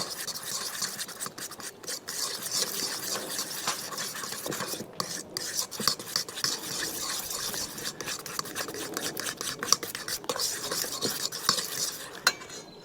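Custard powder being mixed in a bowl, a busy, continuous scraping and rasping of a utensil against the bowl, close up with brief pauses between strokes.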